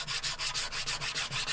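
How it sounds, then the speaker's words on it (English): Grain filler on wood is sanded down by hand in quick, even back-and-forth strokes, about six per second, a close, dry, rhythmic scratching with nothing else audible. "I need to sand this down so I'm almost back to the high spot of the wood"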